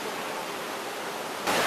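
Waterfall in Tan Son, a steady broadband rush of falling water, close and continuous, swelling louder in the final moments.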